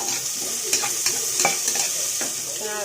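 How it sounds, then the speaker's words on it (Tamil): Vegetables for vegetable biryani sizzle steadily in a hot pan. A spoon scrapes and stirs through them at a regular pace, close and clear, with no talking. "நல்லா வதக்கி சிம்மில் வச்சுக்கோங்க"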